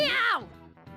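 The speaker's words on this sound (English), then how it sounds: "Did I just hear a cat just now?" A cat meows in the video game Persona 5 Royal. It is one clear, drawn-out meow with a falling pitch, close and loud, followed by faint quieter sounds.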